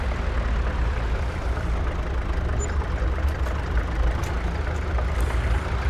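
Tractor engine idling in Farming Simulator 22, a steady low rumble that holds constant with no talk over it.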